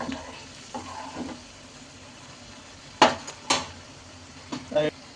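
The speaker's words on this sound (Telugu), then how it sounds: "మినపప్పు శనగపప్పు అయితే వేసుకుందామండి వేసుకొని కలుపుకుందాం ఇదంతా కలుపుకుందాం" Urad dal and chana dal stir-frying in hot oil in a pan, with a soft steady sizzle under several sharp scraping and clattering hits of a spoon against the pan.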